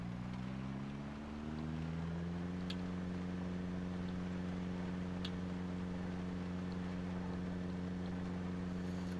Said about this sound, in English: Again, apologize for the engine noise because we're pretty well taxed.